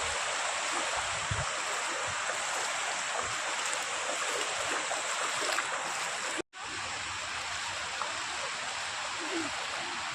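Steady broadband rush of flowing stream water on farmland, continuous and fairly close, with a brief dropout near the end before the flow resumes.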